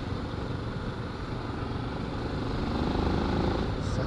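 A Yamaha XTZ 600 Tenere 3AJ motorcycle engine drones steadily while riding, with a broad rumbling roar and wind noise that swells slightly toward the end.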